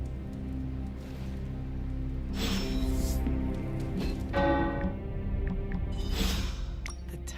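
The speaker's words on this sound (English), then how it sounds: "Bells are ringing." Church bells ring in the video game Midnight Suns over a low, sustained droning background, with bright struck tones repeating every couple of seconds, fairly loud and without speech.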